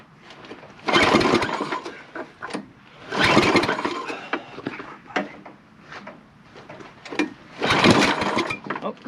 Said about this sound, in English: This snowblower does not like me.